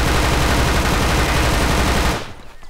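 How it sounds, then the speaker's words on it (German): Sustained automatic gunfire fires at the players in Grand Theft Auto V, a dense, loud, rapid stream of shots that runs for about two seconds and then cuts off abruptly into quiet. "Da wird schon auf uns geschossen."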